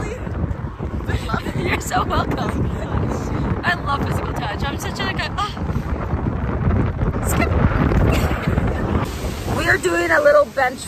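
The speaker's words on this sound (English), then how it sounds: "The wind blowing." Outdoor wind at Lido Key beats against the microphone in a continuous low rumble while people talk over it throughout.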